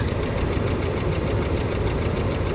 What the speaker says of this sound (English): I'm hearing the noise out of both sides of the engine